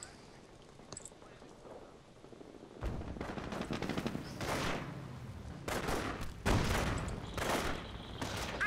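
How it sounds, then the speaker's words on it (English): Machine gun crews fire in the World War II strategy game Company of Heroes, laying down repeated loud bursts of automatic fire over a crackling battlefield backdrop. "my MG crews are doing well, suppressing enemy"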